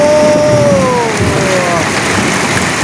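Heavy rain pours steadily outdoors during the rice-planting season, a dense continuous hiss with a faint tonal whine drifting underneath, loud and unbroken throughout.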